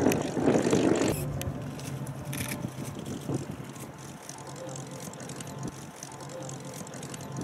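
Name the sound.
Hawker Hurricane with Rolls-Royce Merlin engine taxiing after landing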